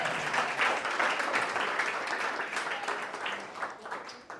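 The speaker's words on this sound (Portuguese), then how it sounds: "Alguém pode dar um amém e aplaudir bem forte aí." A church congregation applauds during a sermon, a loud, dense wash of clapping that stays strong and then slowly thins and fades toward the end.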